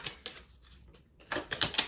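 Tarot and oracle cards shuffled by hand, quick soft riffling clicks in two bursts with a quiet pause between, close and fairly faint.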